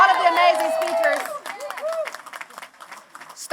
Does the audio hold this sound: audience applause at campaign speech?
yes